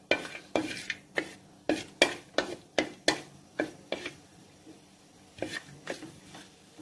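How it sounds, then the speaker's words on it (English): Whole cloves, cinnamon and cardamom stirred in a hot pan, with a series of sharp, irregular utensil knocks and scrapes against the pan over a faint background sizzle, and no voices. "to this we add in cloves, cinnamon, cardamom, and just stir this for a while"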